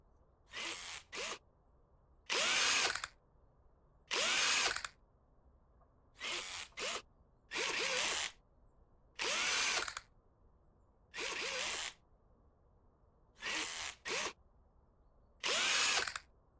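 A power drill spins manifold screws out in Car Dealer Simulator, with about ten loud, sharp whirring bursts, some short and some in quick doubles, separated by near silence.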